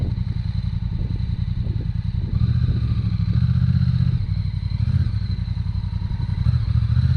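An enduro motorcycle rides figure eights, its engine chugging in a steady low rumble with small throttle swells and faint clatter throughout, fairly close and with no talk.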